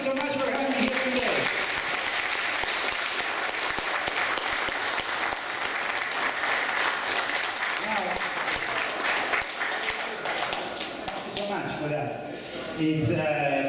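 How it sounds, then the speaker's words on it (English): Sustained, dense audience applause after a speaker's talk, loud and continuous for the whole stretch with a brief swell of voices near the end. "It's a very heartfelt applause."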